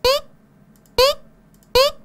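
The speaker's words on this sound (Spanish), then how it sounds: "Okay, el jump suena así." A Unity game's jump sound: three short rising electronic blips, evenly spaced, each a quick upward chirp like a retro game jump effect.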